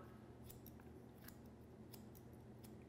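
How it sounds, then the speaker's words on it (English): Scissors snip hair at an angle while working downwards in a salon, giving about seven quick, close, crisp cuts in an irregular rhythm over quiet room tone. "I'm literally just going to cut on an angle, working downwards like this."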